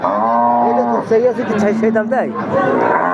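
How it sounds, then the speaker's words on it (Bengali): A Deshal breed dairy cow at a cattle market lets out a loud, drawn-out moo, followed by shorter lowing calls, while people chatter and talk around it. "দেশাল জাতের দুধের গাভী"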